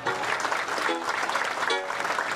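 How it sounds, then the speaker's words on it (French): Audience applause at a ceremony in Haiti, a dense steady patter of many hands filling the whole stretch at moderate distance, with brief voices surfacing faintly underneath. "Applaudissez encore"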